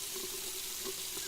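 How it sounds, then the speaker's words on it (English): Running water from a faucet in a Friday the 13th virtual cabin game, a steady hiss of flowing water, continuous and close with no other sounds. "I need to wash my hands really quick, as I can hear the sound, but I don't see any water coming out of the faucet."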